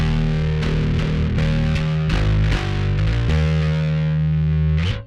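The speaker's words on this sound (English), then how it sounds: "Now if I really push the gain, you can hear the kind of limits or extremes." A bass guitar plays through a Two Notes Revolt Bass pedal with the gain pushed hard, giving a thick distorted tone. Short plucked notes and slides carry steady sustain before an abrupt stop.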